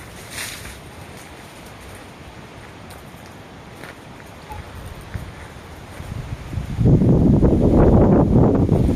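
Gusty wind sweeps through a London garden of flowering lavender, a steady low rush that builds into a loud, buffeting gust near the end, with no voices.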